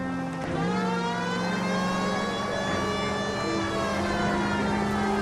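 A police car siren wails steadily in L.A. Noire as the car drives along, over continuous engine noise. The tones are held and sustained, loud and close, with no talking.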